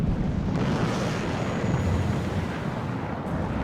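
Aircraft combat in the game WARNO, with a MiG firing: a steady, dense roar of engine noise and distant explosive rumble, loud and continuous without distinct separate blasts.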